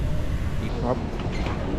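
A train at the Milan Malpensa airport station gives a steady, close low rumble and hum throughout, with a person talking briefly over it.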